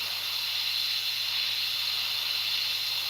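An airbrush sprays paint onto a scale model aircraft in a steady, even hiss of fine spray that runs unbroken for a few seconds, with a faint low hum beneath it.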